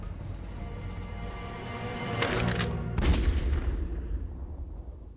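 A Resident Evil Revelations game scene with rumbling low-end ambience, then a burst of rapid gunshots around the midpoint and a loud blast that slowly fades into a lingering tail.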